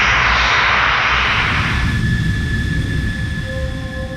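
Fighter jet aircraft engine roaring loudly and close, a broad rushing blast that fades into a steadier whine with high tonal hums.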